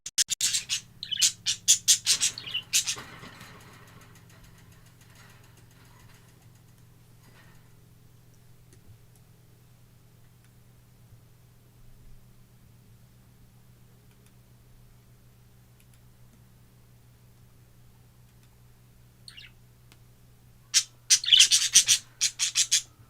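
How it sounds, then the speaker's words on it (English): Birds squawk and chirp in harsh bursts near the start and again at the very end, loud and close, with a faint low steady hum and a quiet room in between. "The birds, they see me streaming or recording or just doing anything,"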